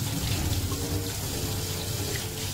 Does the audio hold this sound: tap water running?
yes